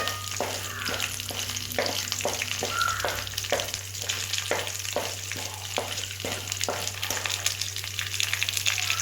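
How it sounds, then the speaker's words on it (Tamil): Cumin and coriander seeds dry-roasting in a pan, a dense continuous crackle with rhythmic scraping strokes of a spatula every half second or so, close and fairly loud over a low steady hum. "அது கூட சீரகம், மல்லி சேர்த்துக்கலாம். சேர்த்து நல்லா வறுத்துக்கலாம்"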